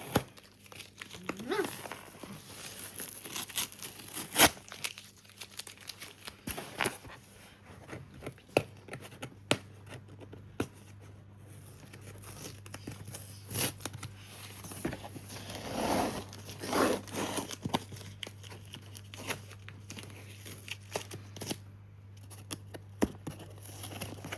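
Sticky tape crackles and rips in short, uneven bursts as it is peeled off packaging, with rustling and handling noises in between, close up.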